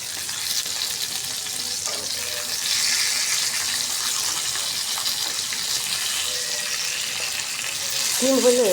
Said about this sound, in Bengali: আলু, পটল, কাঁকরোল, এগুলো ভেজে রুই মাছটা ভুনা করবো